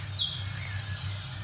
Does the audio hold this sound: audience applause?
no